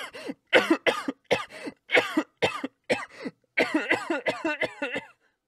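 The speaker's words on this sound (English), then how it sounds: "How long have you had that cough?" A person coughs in a long fit of harsh, rapid bursts, close by, pausing briefly before another run of hacking coughs.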